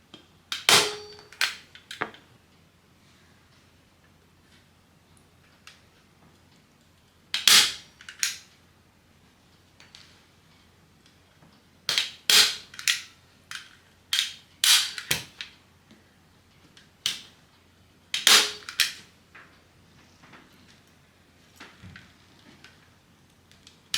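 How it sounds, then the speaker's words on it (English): Big stapler firing staples into fabric during a home project: sharp, loud snapping clicks, some single and some in quick bursts, separated by quiet pauses. "You pull your fabric and you just staple in."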